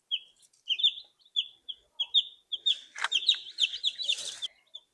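Black Australorp hens on a spring homestead cluck and chirp in a rapid series of short calls, quite close, growing busier and overlapping toward the end.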